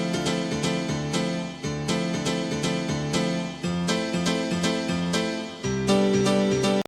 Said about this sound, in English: the best one that works for that classic house piano is Piano 16